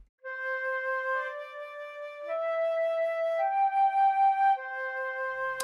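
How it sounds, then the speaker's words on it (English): A software flute instrument in Logic Pro X plays a slow, clean stepwise melody of a few sustained pure tones, clear and alone. "click on flute, and it kind of sounds like this"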